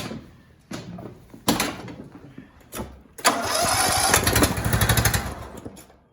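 A Briggs and Stratton single-cylinder small engine is cranked several times with short bursts, then catches and runs loudly at a steady mid-pitched idle, close by.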